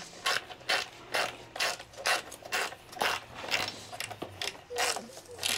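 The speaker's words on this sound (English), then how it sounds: "now I can tighten up the one in here." A hand ratchet tightens the headlight mounting bolts on a Ryker, giving a series of rapid, close clicking bursts in an uneven rhythm with brief pauses between strokes.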